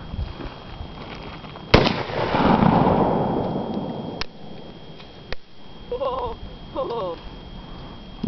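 A .308 Winchester Savage Edge rifle fires one sharp, loud shot outdoors, with a long rolling echo trailing off over a couple of seconds, followed by a few fainter distant cracks and brief bird-like chirps.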